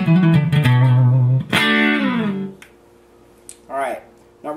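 A clean, undistorted electric guitar through the clean channel of a Carvin amplifier plays a few sustained notes and a bending phrase, ringing out and fading between strums.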